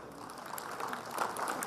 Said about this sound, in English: Big round of applause for our former chief minister and very popular leader of Karnataka.